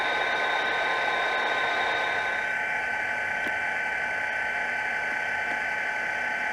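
A scale model Genesis SD45-2 locomotive plays its diesel engine sound through a small onboard speaker: a steady, unbroken droning hum with faint ticks, no voices.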